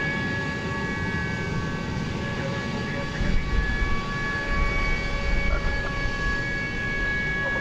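A Boeing 767 taxis at DFW Airport at night toward runway 18 left, its jet engines giving a steady, loud whine and roar with tonal hums, swelling slightly midway.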